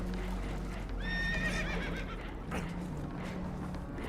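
Spooked horses whinny and neigh in a Red Dead Redemption 2 river scene aboard a leaking boat, a shaky rising neigh standing out near the middle over a steady rushing water and engine rumble, no talk.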